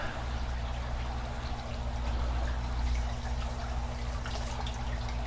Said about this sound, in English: It's spraying water all over the inside here.